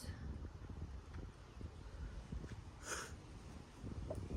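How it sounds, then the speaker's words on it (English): Wind gusts outdoors in a low, steady broadband rumble buffeting the microphone, with a brief rustle near the middle and no voices. "The wind wants to blow."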